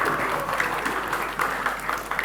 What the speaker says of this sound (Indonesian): Tepuk tangan untuk Dewan Juri.